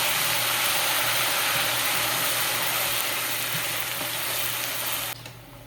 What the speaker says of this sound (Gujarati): ગાર્લિક બ્રાઉન થઈ ગયું એટલે એમાં નાખીશું ઓનિયન અને કરી દેવાનું મિક્સ